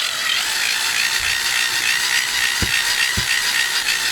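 Cordless drill spun fast by hand as a homemade DC generator, giving a steady whirring hiss with a few sharp clicks near the end.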